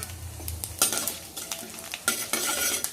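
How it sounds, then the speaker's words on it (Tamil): Spices sizzle in hot oil while a utensil stirs and scrapes the pan, with intermittent clinks and bursts of frying crackle. "அதனால இதெல்லாம் ஃப்ரை பண்ணி எடுத்துக்கலாம்."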